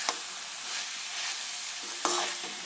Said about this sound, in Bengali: এখন আরেকটু কষাবো, কষিয়ে নিয়ে পরিমাণ মতন জল দিয়ে দেবো।